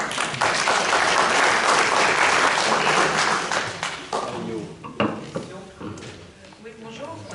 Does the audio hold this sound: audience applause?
yes